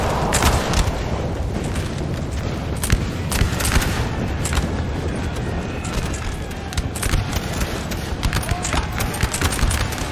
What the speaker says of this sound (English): The artillery has one last chance probably to fire.